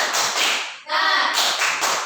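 Schoolchildren in a classroom do a rhythmic spirit clap, loud close claps and taps in a quick patterned burst, with voices chanting along and a short break midway.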